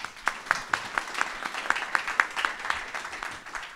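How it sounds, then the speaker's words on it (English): A small crowd at a business conference panel gives a short, sparse round of applause, with distinct individual claps standing out in a loose rhythm at moderate volume, fading after a few seconds. "Let's give him a round of applause."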